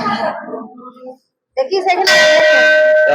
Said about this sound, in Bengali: ঘন্টাটা বাজি দাও